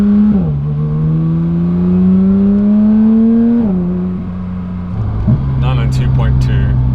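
Porsche 992.2 GT3 engine revving up to 4,000 RPM, a close, steady rising drone that drops back, climbs again, then settles to a lower idle with some faint chirping at the end.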